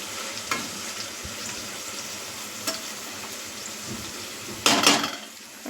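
Onions deep-fry in oil for a vegetable biryani in a home kitchen, making a continuous close sizzle with occasional utensil clinks and a louder splattering burst near the end.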